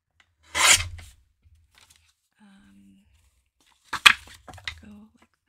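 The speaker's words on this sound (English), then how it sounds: "I wanted to trim a little bit off." Thermal cinch material being trimmed in two short bursts of rasping cuts, separated by a quiet pause, close and fairly loud.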